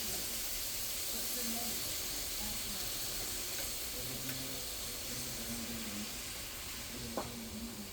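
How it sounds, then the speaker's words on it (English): Bacon, sausage drippings and onions sautéing in a pan for tomato gravy, giving a constant close hiss and sizzle with faint clinks and a brief sharp tap near the end. "So I'm sauteing the bacon, and it has the bacon drippings and the sausage drippings that are mixed in with the onions."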